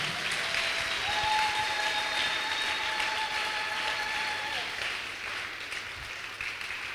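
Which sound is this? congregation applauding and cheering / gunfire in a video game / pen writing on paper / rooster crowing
congregation applauding and cheering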